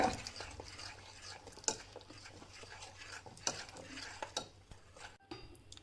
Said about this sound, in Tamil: கட்டி இல்லாமல் நல்லா மாவை நல்லா கரைச்சிக்கோங்க.